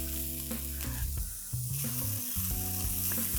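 White onions, French beans and carrots frying in hot vegetable oil in a wok, a continuous close sizzle with stirring clatter and scraping, with music running underneath.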